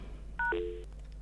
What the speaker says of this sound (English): So I will dial the 1002 and I will dial from 1001.